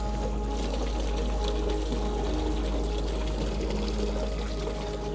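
Water pours steadily into a bucket to be kept for drinking, a continuous splashing flow over a low hum, near and without talk.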